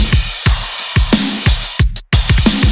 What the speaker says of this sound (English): Let's try that hi-hat.